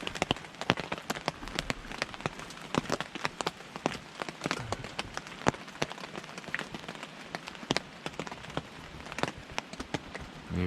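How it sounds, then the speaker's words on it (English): Steady rain drums on a truck roof during a camping stay, a dense patter of drops with sharper individual hits scattered throughout, constant and fairly close with no talking. "for the amount of rain that's coming down,"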